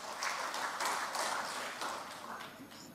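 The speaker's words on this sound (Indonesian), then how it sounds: "Kita berikan tepuk tangan yang meriah." Applause from an audience at an Indonesian political event announcing gubernatorial candidates: a dense, continuous wash of clapping that holds steady for about three seconds and fades slightly at the end.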